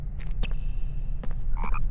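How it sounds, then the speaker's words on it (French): Chocolate frog croaking in a Harry Potter video game, a few short croaks scattered over a steady low rumble of game background, with a brighter burst near the end. "Je vais prendre les choco-grenouilles."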